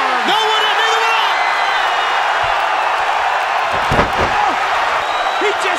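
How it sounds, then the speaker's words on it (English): In a WCW wrestling arena, a wrestler gorilla press slams the company president, a heavy impact thud that rises briefly out of a constant crowd roar while commentators talk. "He just gorilla press slammed the president of WCW."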